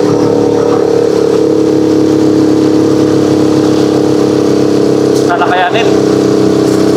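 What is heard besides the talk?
Rusi Chariot 175 tuktuk engine revving uphill carrying a motorcycle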